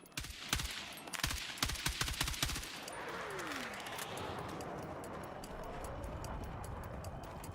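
Video game gunfire cracks out in a rapid, uneven volley of shots that fades after a few seconds into a steady rumble of battlefield noise, all fairly quiet.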